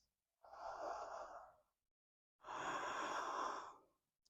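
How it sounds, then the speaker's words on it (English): Two slow, steady breaths, each lasting about a second, a soft airy inhale followed by a fuller exhale, close and clear against silence during a Sun Salutation B yoga practice. "Inhale. Exhale. 5 inhales and exhales."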